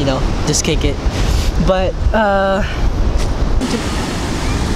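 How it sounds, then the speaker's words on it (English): Ocean waves at a beach on a hot day, a steady broadband wash of surf and wind running throughout, with a person talking over it and wind buffeting the microphone. "I'm here at the beach."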